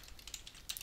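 Keystrokes on a computer keyboard while entering rectangle coordinates for programming, a few soft scattered clicks at low level with no voice.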